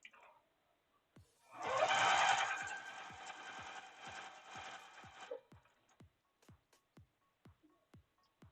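A sewing machine runs in one steady, loud burst of about four seconds, stitching pieces of fabric that have just been ironed. Soft isolated clicks and taps follow after it stops.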